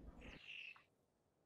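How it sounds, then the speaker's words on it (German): An eagle in ARK: Survival Evolved lets out a single shrill, gliding screech lasting under a second, then a sharp click cuts in at the end. "ich hab hier einen Adler"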